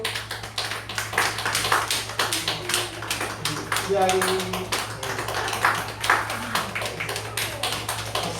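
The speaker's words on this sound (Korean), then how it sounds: "박수." A group claps hands in applause at a church service while a child is called forward to receive a gift, dense steady clapping over several seconds with voices speaking over it.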